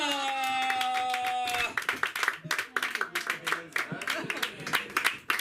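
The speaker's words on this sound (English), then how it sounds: "get your hands up and prepare your applause for Sansa!" Clapping from a small audience at a comedy open mic, breaking in after a sustained musical tone and continuing as scattered, uneven claps.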